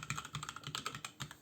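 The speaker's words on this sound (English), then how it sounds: "go onto my keyboard" Keys clacking on a computer keyboard during a Gentoo Linux setup, a quick uneven run of close, crisp taps with no one speaking.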